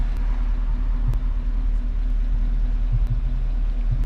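A cammed Chevrolet Camaro engine idles with a deep, lumpy, uneven rumble, steady and close, its low throb pulsing irregularly.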